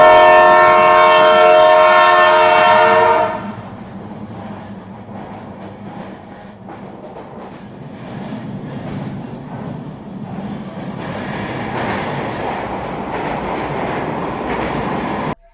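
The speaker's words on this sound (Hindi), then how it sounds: "ट्रेन बहुत ही तेजी से चल रही होती है।" A train speeding along the rails, opening with a loud sustained horn blast, then steady rumbling wheel-on-track noise and clatter that swells slightly as it continues.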